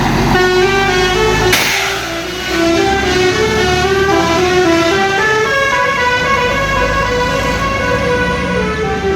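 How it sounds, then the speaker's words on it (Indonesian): A Yuanda Prima bus arriving at a bus terminal in West Sumatra, loud horn blasts playing a long tuned melody over engine rumble, close and continuous. "dari arah Padang Pariaman masuk satu unit bus Yuanda Prima"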